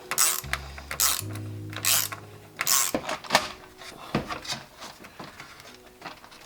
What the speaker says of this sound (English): so I try to loosen the hose clamp